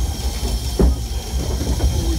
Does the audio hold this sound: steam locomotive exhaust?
yes